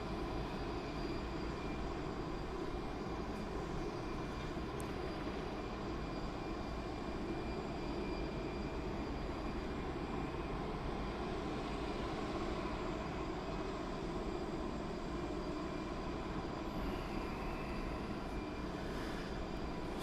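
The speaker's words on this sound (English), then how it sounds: "the next departure, as you can just see the nose, is the Logan Air Embraer 145 back off to Aberdeen" A Loganair Embraer 145 jet departs at Birmingham Airport, its engines a constant distant roar and whine that holds steadily throughout, with no voices heard.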